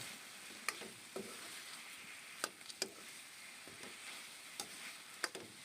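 Steady sizzling of chicken adobo frying in a pan, with occasional sharp pops and crackles over the hiss.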